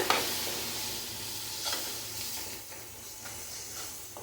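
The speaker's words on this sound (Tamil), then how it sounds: "எல்லாத்தையும் சேர்த்துட்டு நல்லா வந்து மிக்ஸ் பண்ணி கொடுங்க." Chili powder being stirred into egg thokku in a pan, a steady scraping stir over a soft continuous sizzle of cooking oil, close and moderately loud throughout with no talking.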